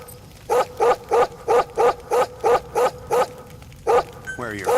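Dog barking in Metal Gear Solid V, a close, loud run of about a dozen evenly spaced barks followed by a short whine.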